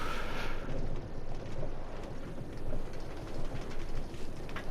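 Trains in the video game Minecraft rumble continuously, a dense low clattering roll of rail noise with faint clicks, steady and fairly loud throughout with no voices.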